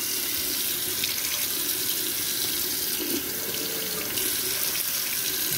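Hot tap water runs into a sink in a steady, close, loud splashing rush that carries on without a break, with no voices.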